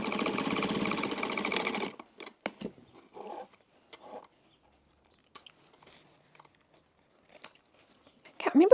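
A 70-year-old Pfaff sewing machine stitches quilting cotton in one steady, buzzing run of about two seconds, followed by scattered clicks and handling noises and a brief return of the motor at the end.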